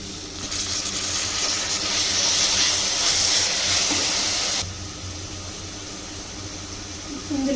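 Chopped gongura leaves frying in a pan with ginger garlic paste, a steady loud sizzling hiss that swells when the leaves go in and then settles to a softer, continuous fry.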